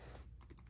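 A few quick, faint keystrokes tap on a computer keyboard as a username is entered, close and quiet over a low background hum.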